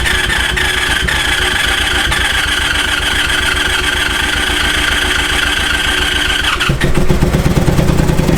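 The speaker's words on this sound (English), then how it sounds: "I want to turn this guy over." A 1984 Honda Sabre VF1100 V65 motorcycle, leaking fuel after fifteen years unstarted, is cranked over. A loud, rhythmic starter churn runs steadily, then shifts near the end as the engine seems to catch.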